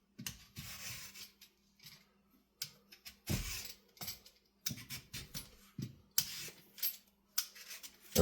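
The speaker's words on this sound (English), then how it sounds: "we're going to peel the sweet potatoes" Scraping strokes of a peeler on sweet potatoes in a home kitchen, coming in short, irregular bursts with brief pauses between, close and moderately loud.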